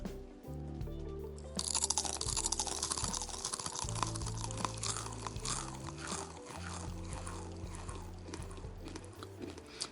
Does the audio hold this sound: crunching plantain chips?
yes